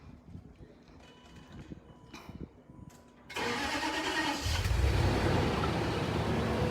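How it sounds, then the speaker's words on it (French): A Range Rover's engine cranks and catches after a few seconds of quiet handling noises, then settles into a steady, fairly close idle that swells slightly as it runs. "Il faut mettre le moteur en marche."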